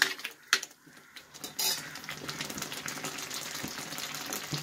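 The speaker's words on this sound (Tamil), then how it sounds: "இந்த ஜாம் செய்யும்போது எப்படி படப்படப்படன்னு தெரிக்கி பார்த்தீங்களா, பக்கத்தில் நிற்க முடியாது" Roseapple (water apple) jam bubbling and spattering as it cooks in a pan, with sharp irregular pops and clinks early on, then a steady close crackling hiss that continues throughout.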